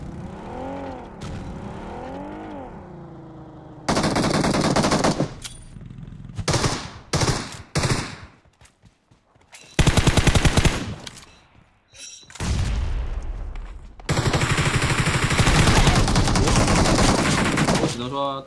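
Loud bursts of automatic gunfire in the game PUBG Mobile, coming in several long, intense volleys broken by short pauses, with a smooth engine-like tone at the start.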